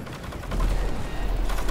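Rapid bursts of gunfire ring out in a hectic sci-fi shooter firefight, with a dense, sustained clatter of shots that swells louder partway through and continues without a break.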